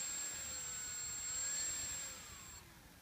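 Electric motor of a Flite Test RC Storch model plane runs outdoors as a thin, steady high-pitched whine over a soft hiss, easing off slightly toward the end.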